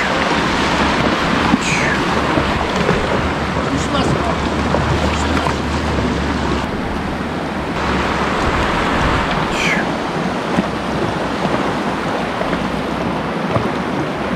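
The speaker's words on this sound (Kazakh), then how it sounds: "Қазір өзеннен өтеміз." River water rushes and splashes during a crossing on horseback in mountain country, a loud, constant turbulent roar close by with occasional wind buffeting and no clear speech.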